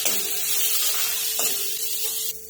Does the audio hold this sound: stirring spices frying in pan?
yes